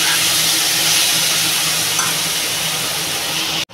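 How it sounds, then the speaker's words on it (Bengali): Curry vegetables frying in a pan, a loud steady sizzle and hiss that holds throughout and cuts off abruptly just before the end. "তরকারিটা প্রায় ভাজা হয়ে গেছে।"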